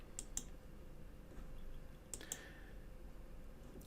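Computer mouse clicks at a desk, a few sharp crisp clicks in two quick pairs, close but quiet over a low room hum, no talking.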